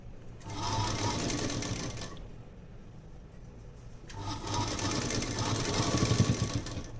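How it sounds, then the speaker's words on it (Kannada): A domestic sewing machine stitches quilt pieces cut from old clothes, running in two steady whirring bursts with a short quiet gap between, close and moderately loud with no speech. "ನೀಟಾಗಿ ಫುಲ್ಲು ಸ್ಟಿಚ್ಚನ್ನು ಹಾಕೊಂಬಿಡ್ತೀನಿ"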